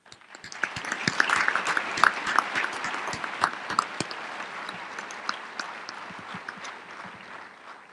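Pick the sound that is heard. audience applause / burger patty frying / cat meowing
audience applause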